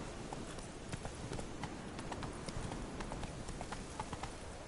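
Hooves of Roach, a horse in the Witcher 3 video game, clip-clop in a quick, even rhythm at moderate distance over a soft ambient bed.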